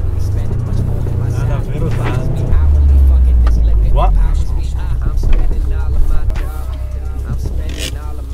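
A Subaru engine hums low and steady from inside the car while driving, rising in a deeper surge midway, with someone talking excitedly over the drone throughout.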